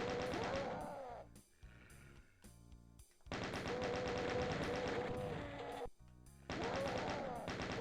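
Chaingunner enemies firing in Doom II on PC, rapid rattling automatic shots mixed into loud game music and effects, coming in dense bursts with brief pauses between them.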